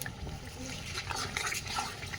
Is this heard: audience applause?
no